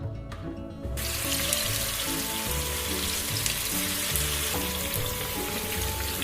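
Marinated chicken kebab pieces dropped one by one into hot oil, a loud, steady frying sizzle filling the space after a brief quieter start, with no talking.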